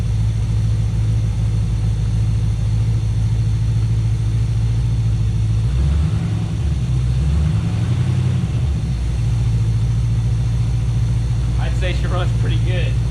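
A 1967 Chevrolet Camaro barn find V8, its carburetor untouched, runs on its first start with a steady, loud idle, swells into a few revs in the middle, then settles back to idle, with brief talk near the end.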